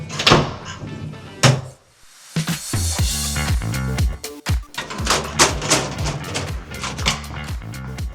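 A compact two-person home elevator in a Montrose, Houston house slides its door shut with a few thunks and clatters, then a steady mechanical hum and rattle carries through the ride, close and fairly loud, with no talking.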